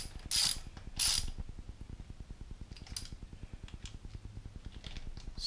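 A hand ratchet snugs steel bolts back into aluminum threads on a 2011 Yamaha XT250 motorcycle during an oil change, giving a fast, steady run of close, crisp clicks with a few louder metallic knocks near the start.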